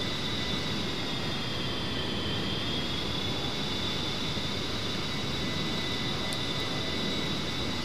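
A-10C Warthog twin jet engines in the DCS flight simulator, giving a steady broadband roar with a high whine held near 90% core RPM at cruise, continuous and unchanging.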